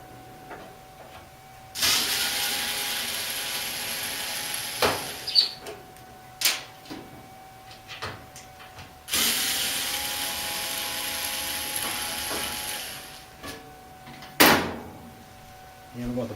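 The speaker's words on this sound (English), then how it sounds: "Take our screwdriver and unscrew the screws from the ducting" A power screwdriver whirs in two long bursts, unscrewing screws from the ducting of a Whirlpool dryer, with sharp clicks and clanks of metal between them, close by in a quiet room.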